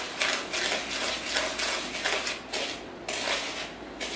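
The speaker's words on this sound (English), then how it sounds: "just stir the flour into the sugar" Flour being stirred into sugar in a mixing bowl for a sugar cream pie, a steady scraping and swishing with repeated spoon strokes against the bowl, close and continuous with no talking.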